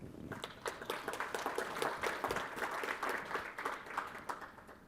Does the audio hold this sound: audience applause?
yes